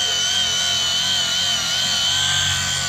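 A cordless angle grinder runs loud and close with a steady high-pitched whine and a dense tonal buzz that holds nearly constant, the motor pitch wavering slightly, with no speech.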